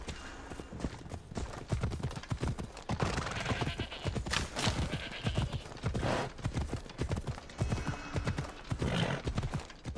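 Rapid, continuous hoofbeats of a galloping horse in the video game Assassin's Creed Odyssey, close and loud, with a brief whinny in the mix and no talking.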